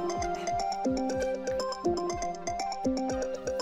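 A phone ringtone plays a steady melodic pattern of repeated tones for an incoming call, continuous, loud and close, with no talking over it.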